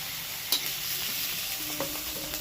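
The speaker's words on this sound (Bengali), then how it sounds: "বেগুনগুলোকে না এরকম হালকা করে ভেজে নেবে" Sliced eggplant lightly frying in oil in a pan gives a steady, close sizzling hiss, with a few sharp stirring clicks and scrapes breaking through.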